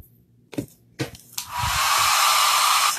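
A hair dryer blows loudly and steadily on a handmade nutcracker craft piece, starting after a few sharp handling knocks and then holding a constant close whir to the end.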